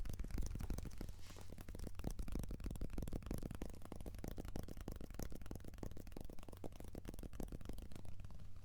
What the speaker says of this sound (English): let's do some tapping on it